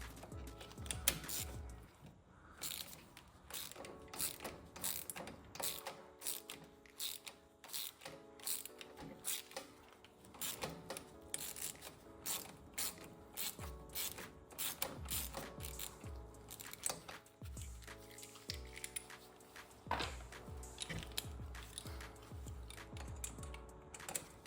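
Dense rapid clicking of a ratchet wrench working a bolt loose on the carburetor of an Ariens Deluxe 28 snowblower, steady and close, with occasional heavier clunks and no talking.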